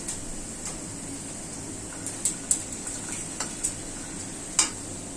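Reddened onions sizzle in a pan as turmeric powder is stirred in, a steady close frying hiss broken by sharp clicks and scrapes of a utensil against the pan.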